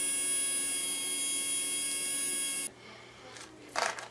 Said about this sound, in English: I believe with the amount of amperage this uses, there's probably quite a bit of torque on these little 130 motors